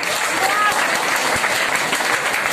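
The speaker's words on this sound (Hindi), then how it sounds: "लास्ट वाली लाइन के लिए एक बार फिर से ताली बजाओ" An audience at an anniversary celebration claps loudly and steadily for the last line of a poem, with voices mixed into the dense applause throughout.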